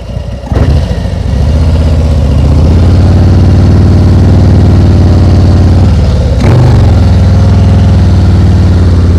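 A motorcycle engine runs loud and close while the bike is ridden through slow turns with the clutch in the friction zone, holding a steady low rumble with brief dips and surges as the throttle changes.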